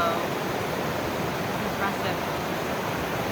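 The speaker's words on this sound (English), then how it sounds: "And the waterfall from down below." A waterfall heard from below along a snowy mountain trail near Many Glacier in Glacier National Park gives a steady, broad rushing roar that fills the scene without letting up.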